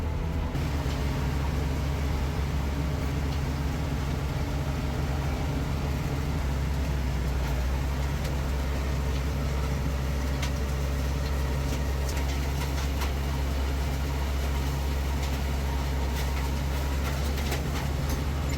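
A potato harvester runs steadily in a field, its belts and elevator giving a loud, continuous mechanical rumble and clatter with no talk over it.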